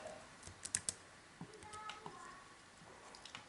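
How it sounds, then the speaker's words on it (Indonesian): Quiet keystrokes on a computer keyboard as a short line of code is entered in MATLAB, a quick cluster of sharp clicks followed by a few sparse taps over faint background noise. "kita kalau ngetik X sama dengan 3"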